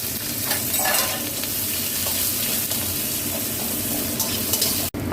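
Onions fry in hot oil in a wok (kadai), producing a dense, continuous sizzle close up, with stirring scrapes mixed in and a brief gap near the end.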